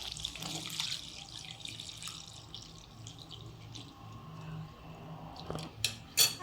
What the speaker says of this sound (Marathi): आता त्याच्यात दूध घालू